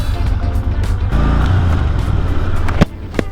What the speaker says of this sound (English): I hate turning around slowly on gravel.